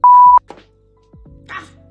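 A telephone dials a neighbor upstairs. It gives a loud steady tone, then a few softer beeps and tones at different pitches, close by with no speech.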